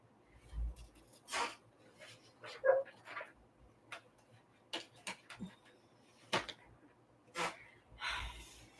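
Dogs give scattered short barks, snorts and faint whimpers, quiet and somewhat distant, with soft knocks and rustles between the sounds.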